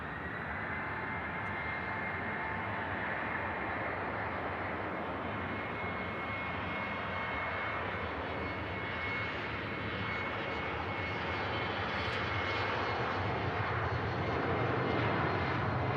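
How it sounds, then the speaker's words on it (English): A KLM airliner departing Manchester Airport gives a continuous, even jet engine roar at moderate distance, steady throughout with no talking. "KLM heading back to Amsterdam Schiphol Airport"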